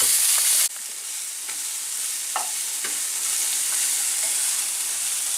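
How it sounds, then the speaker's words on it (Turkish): Ingredients for a Krabby Patty-style burger being stirred in a pan, a continuous bright sizzle with scattered scraping clicks from the utensil, close and fairly loud. "Görmeden karıştırın bunları görmeden."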